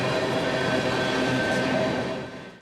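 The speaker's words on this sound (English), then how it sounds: "as Steve Morrissey, we saw at least 2 trains hauling tank cars roll past just outside her back door." A freight train hauling tank cars rumbles steadily past nearby with a continuous broadband roar and faint metallic squeal, fading slightly at the end.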